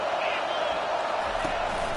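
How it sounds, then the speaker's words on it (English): A home crowd at an Iowa football game roars steadily on a third down, a loud, dense wall of cheering that holds without a break. "Here comes this home crowd as the defense tries to get off the field on 3rd down."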